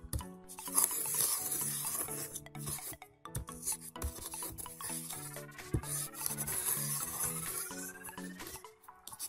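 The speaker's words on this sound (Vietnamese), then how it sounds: "Quấy đều nó lên, trộn xong sau đó là trộn đều." A black powder mixture is stirred and ground by hand, without machines, making rhythmic gritty scraping and rubbing strokes that repeat continuously at a fairly quiet level, with no voices.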